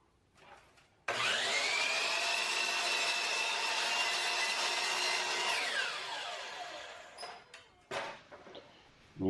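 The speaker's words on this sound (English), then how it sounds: "Now it's time for the miter saw." Miter saw rough cutting wooden boards in a shop, the motor whining up to speed, a loud sustained cut, then spinning down, followed by brief clatter and handling noises.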